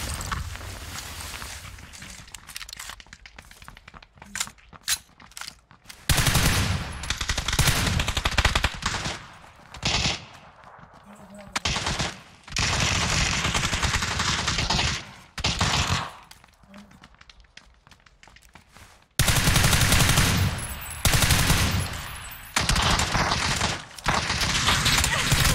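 Automatic gunfire in a PUBG match on PC comes in bursts of rapid shots, loud and close, separated by quieter stretches with footsteps and faint game noise.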